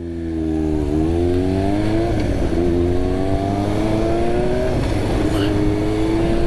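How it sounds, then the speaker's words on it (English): A rider on a green Kawasaki motorcycle comes up on the inside and passes, its engine droning loud and close with rising and falling pitch as it draws alongside. "I've got a biker coming up inside of me now. Looks like it's on a green Kawasaki"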